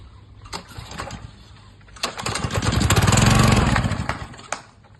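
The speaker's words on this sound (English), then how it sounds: "You got to start the pressure washer." A small gasoline pressure washer engine fitted with a new spark plug coughs through pull attempts, then catches and runs at a loud, rough, rising idle before cutting back, with brief voices around it.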